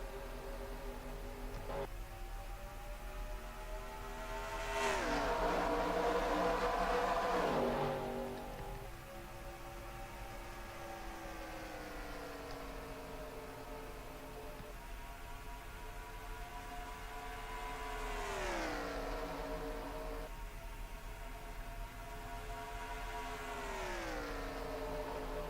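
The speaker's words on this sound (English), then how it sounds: "Green flag in the air, and we're racing at Charlotte" Stock cars race at Charlotte in the National Guard 500, engines droning in layered tones that rise and fall in pitch as cars pass, the loudest rush coming midway.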